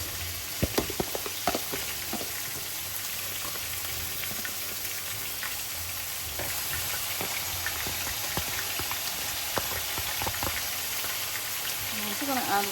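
Onions and garlic sizzling in a pan, a dense continuous crackle with scattered sharp pops and occasional stirring, loud and close, with a voice talking over it.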